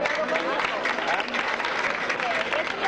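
Audience applause fills a civic hymn ceremony in Ciales, a dense, steady wash of clapping from a crowd, with voices mixed in.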